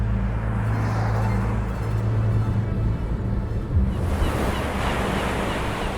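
Ocean surf rolls steadily onto a nearly deserted beach near Peruíbe, São Paulo, a continuous broad wash of waves with wind noise buffeting the microphone and no voices.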